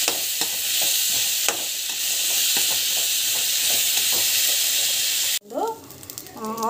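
Tomato and fennel sauté in hot oil with a loud, steady sizzle and stirring that stops abruptly near the end, followed by a brief stretch of speech.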